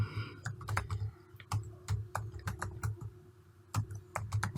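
Someone types PL/SQL code on a computer keyboard, producing crisp, close keystroke clicks in irregular bursts with short pauses, with no voices.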